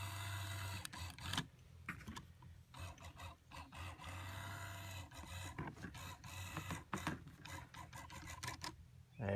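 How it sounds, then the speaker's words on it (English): Mercedes Hirschmann power antenna motor on a W126, W124, W123 or W201 running in reverse to feed the mast back in, a faint whirring mechanical hum broken by brief pauses and rattling clicks, no talk. "And now I need to reverse the motor, and now I need to feed that back in there."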